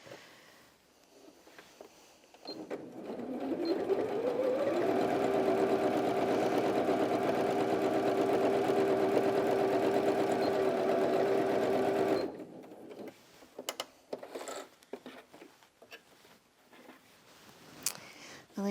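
A Janome 360DC sewing machine runs one long steady straight stitch through two layers of thick fabric, a close, even motor hum that ramps up, holds for several seconds and stops, with quiet handling noises on either side.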